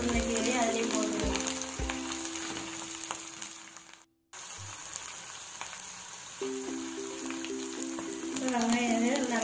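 Green chilies, curry leaves and coriander sauté in an oily pan for egg curry, making a close, steady crackling sizzle that cuts out briefly and then resumes, with a faint hum underneath.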